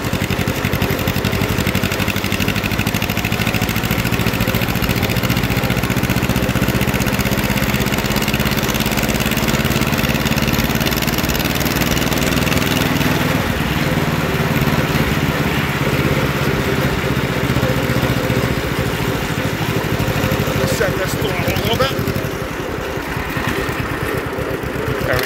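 A John Deere lawn tractor engine runs steadily and loud while the machine drives along a driveway, with a constant close mechanical drone and slight pitch shifts throughout, with no one talking.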